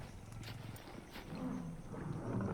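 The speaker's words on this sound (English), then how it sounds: "Hear that tiger, we gotta get out of here." A tiger roaring in the video game Far Cry Primal, a low, rough growl that swells over a dense wilderness ambience and grows louder toward the end.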